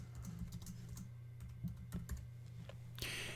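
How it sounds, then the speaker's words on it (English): Keystrokes on a computer keyboard entering a short line of text, a quick run of crisp, close taps with brief pauses between bursts, heard alone over a steady low background hum. "And then we just come over here and type in our text"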